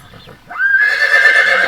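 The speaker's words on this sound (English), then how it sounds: "Yes, it is a horse." A horse gives a loud, close whinny that rises sharply and then holds a quavering tone to the end, after a brief quiet start.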